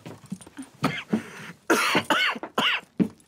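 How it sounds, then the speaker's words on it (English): A character in the video game Red Dead Redemption 2 succumbs to a harsh coughing fit: a string of ragged, throaty coughs and strained breaths in irregular bursts, loud and close, with no speech. "he blacks out, succumbs to yet another coughing fit"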